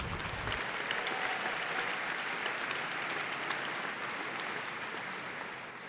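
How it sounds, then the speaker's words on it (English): An academic convocation audience breaks into steady applause, dense and continuous from the start and fading slightly toward the end. "let's give them a round of applause."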